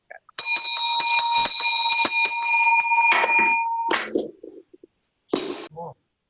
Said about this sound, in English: We're going to start worship with a young person ringing the bell.